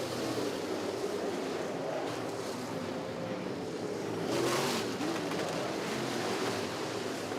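UMP DIRTcar modified race cars in a 15-lap feature at Terre Haute Action Track, a steady distant engine roar holding across the whole stretch with a slight swell midway, no talk over it.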